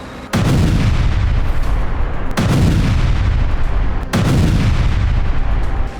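Israeli artillery fire in Gaza, three heavy booming blasts spaced about two seconds apart, each loud and close with a sharp crack and a long rumbling tail that fills the gap before the next shot.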